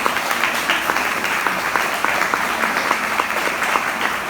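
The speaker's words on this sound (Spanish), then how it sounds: "Denle un aplauso al Rey." A church congregation applauds in a sustained burst of many hands clapping together, dense and lively at moderate loudness, holding steady for several seconds without a voice over it.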